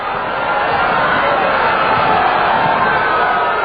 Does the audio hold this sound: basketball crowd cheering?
yes